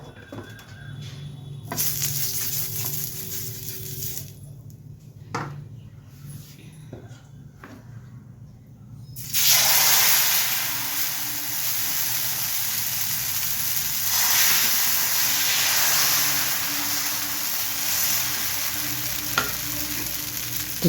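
Sizzling of sponge dosa batter on a hot pan, a steady frying hiss that swells loud after a quieter start with a few clicks and knocks of kitchen handling.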